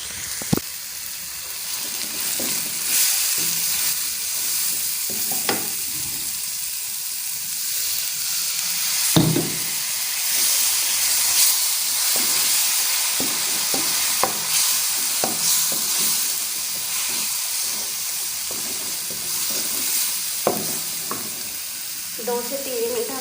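Masala roasting in a pan for Hyderabadi chicken biryani, a continuous close hissing sizzle with occasional stirs and scrapes, steady throughout, no voices.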